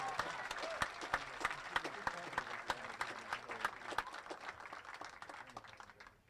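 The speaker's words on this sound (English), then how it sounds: "Let's give a round of applause for the Washington and Lee University Generals." A crowd applauds the Washington and Lee University Generals at an ODAC field hockey championship game, sustained clapping with sharp individual claps standing out and some cheering, fading slightly toward the end.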